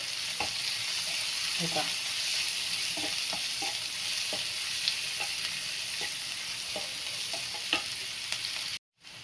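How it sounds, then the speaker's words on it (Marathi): Chopped onion fries with salt in a hot pan, a steady close sizzle throughout, broken by scattered scraping stirs of a spoon against the pan. "आपल्याला कांदा लवकर भाजायचा असेल तर आपल्याला टाकायचं चिटकीवर मीठ आणि हे मीठ चांगला चांगला परतून घ्यायचा आहे"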